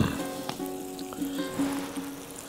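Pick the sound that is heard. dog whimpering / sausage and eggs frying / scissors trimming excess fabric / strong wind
sausage and eggs frying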